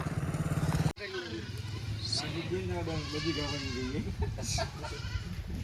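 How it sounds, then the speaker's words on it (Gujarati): A herd of goats bleats in repeated wavering cries, several animals calling near and far, after an engine drone cuts off abruptly at the start. "તો અહીંયા બકરાની પૂરેપૂરી ફોજ આવી ગઈ."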